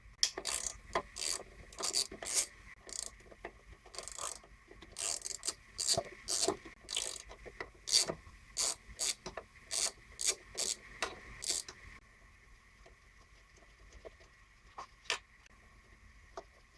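A ratchet wrench clicks in quick, fairly close bursts while taking out four loose 10mm bolts on a Briggs & Stratton Yard King engine, ending in a few seconds of quiet.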